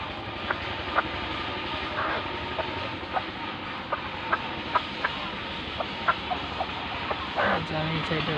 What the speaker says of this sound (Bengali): দেখুন মুরগিগুলো খুব সুন্দর,